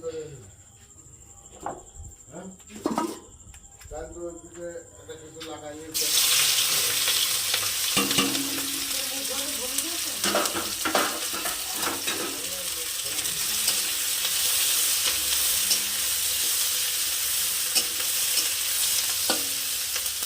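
Onion and green chili hit hot oil in a home kitchen pan, bursting into a loud continuous sizzle that holds steady after a quieter start with talking and clinks of utensils.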